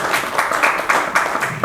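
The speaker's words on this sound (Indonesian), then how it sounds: "kita beri tepuk tangan buat Pak Yahman ya" An audience claps for a man at an in-house kindergarten teacher training session, a brief burst of dense, steady applause close by.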